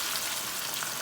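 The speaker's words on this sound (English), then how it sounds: "I'm gonna add my fish on the oil. It's hot" Snapper frying in hot oil for Haitian fried fish, a dense, bright, crackling sizzle that stays even and close for the whole second.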